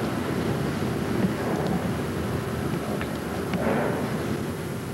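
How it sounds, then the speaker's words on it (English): Blustery November wind blows outdoors at a Great Lakes memorial wreath-laying, a steady low buffeting roar with gusty rumble across the microphone and no voices. "It's quite blustery outside"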